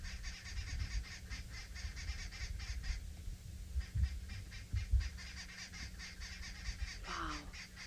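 Agitated birds on a wildlife safari sound off in alarm, repeated honking goose-like calls pulsing in rapid series at moderate distance, pausing briefly before resuming, with a sharper call near the end.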